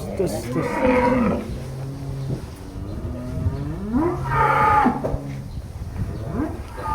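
Two loud, nearby moos from a roughly one-ton sacrificial cow, each long and droning, separated by a brief pause with some low background rumble.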